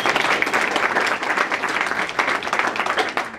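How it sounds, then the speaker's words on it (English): Audience applause at a Sister Cities International 60th anniversary celebration opening, a dense, lively burst of many hands clapping that holds steady throughout with a slight fluttering texture, close and full, with no talk on top. "we can still give her a round of applause for making the effort"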